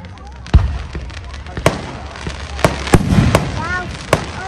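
A Canada Day fireworks display sends out a series of sharp pops and booming bursts at irregular intervals, with people talking and reacting throughout.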